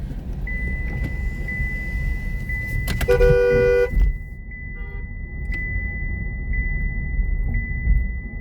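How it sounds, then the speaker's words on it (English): A Chevy Bolt's horn gives one short, sharp honk partway through, heard from inside the car over a steady road rumble and a faint high tone. "Start honking the horn at these motherfuckers."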